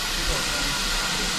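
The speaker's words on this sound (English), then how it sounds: "another rather nice looking steamer" Heritage steam locomotive at Totnes Riverside on the South Devon Railway during a winter steam gala, giving a steady close hiss of steam with a low rumble underneath, continuous throughout.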